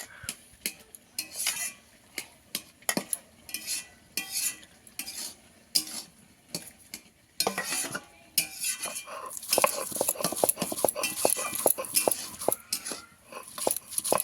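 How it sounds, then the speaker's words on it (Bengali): Onion being ground into paste in a home kitchen while cooking a fish dish: steady scraping and rubbing strokes, close and moderately loud, growing busier and more continuous toward the end. "পেঁয়াজটা বেটে নেবো"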